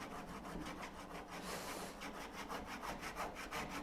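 Coping saw cutting through wood, a steady back-and-forth rasp of repeated strokes, close and fairly loud with no talking over it.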